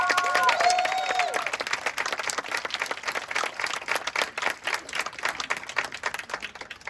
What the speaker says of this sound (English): can you give them a round of applause for that?